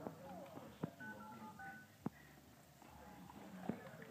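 A child's toy phone gives a few sharp electronic button beeps spread over several seconds in a home kitchen, faint against room noise, with an adult voice talking in between.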